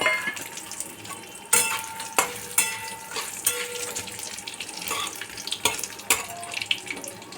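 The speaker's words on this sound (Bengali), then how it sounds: "হালকা ভাজা হবে এটা।" Cashews and raisins frying gently in hot oil in a pan, a steady close sizzle punctuated by sharp clinks and scrapes of stirring, with no voices.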